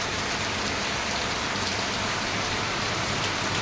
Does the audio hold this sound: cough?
no